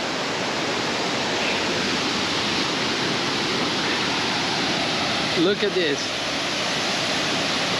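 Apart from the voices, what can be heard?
waterfall at Tad Lo, Laos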